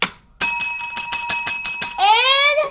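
A bright metallic bell rings in a fast series of repeated ding strikes, then a rising two-tone chime closes it out; loud, close and alone.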